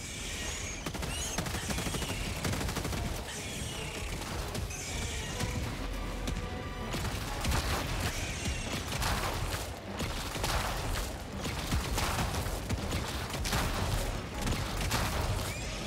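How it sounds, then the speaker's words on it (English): Mortar strikes in the video game Helldivers 2, a chaotic barrage of repeated blasts and crackling bursts layered over dense battle noise, loud and continuous throughout. "I'm gonna get killed by mortar."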